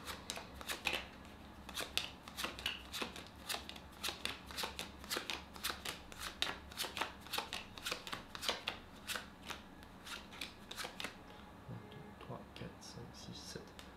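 Playing cards are dealt one by one into three columns of 21 cards for a classic card trick, giving a quick, steady run of crisp, close snaps on a table.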